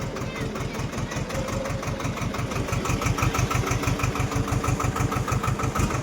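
A tractor engine runs at a steady idle, its rapid, even thumping pulse close and loud, growing slightly stronger toward the end, with no clear voices over it.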